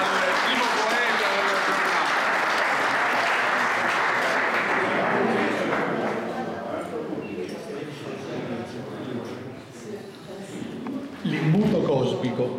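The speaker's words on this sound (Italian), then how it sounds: "facciamo un applauso al primo poeta" Audience applause for the first poet at a poetry reading in Mussomeli, Italy: dense, loud clapping from a crowd that thins and fades over several seconds, with a few scattered claps and a brief voice near the end.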